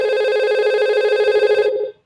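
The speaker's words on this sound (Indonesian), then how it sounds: "Kita masukkan aja 221, lalu kita telepon." An IP phone on a VoIP network rings during a call: a steady, warbling electronic tone sounds alone for about two seconds, then cuts off abruptly.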